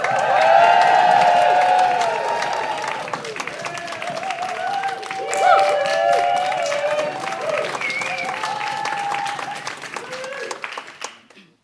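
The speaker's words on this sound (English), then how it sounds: "Let's get our whooping and that cheering." An audience at a slam poetry event claps and cheers loudly at first, then the noise thins into scattered clapping and whoops with some voices before fading out.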